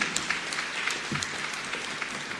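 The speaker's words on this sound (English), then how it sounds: "A round of applause will do." Guests at a formal state address by Kenya's president give a sustained round of applause, a moderately loud, steady wash of clapping from a room full of people, without voices.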